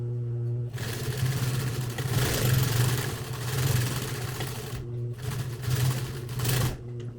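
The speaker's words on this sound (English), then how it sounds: "I'm going to take a stitch and go back and forth across there a couple times" Sewing machine stitching back and forth across a DIY sling strap, a loud steady motor whir running in two long bursts with a brief stop between them.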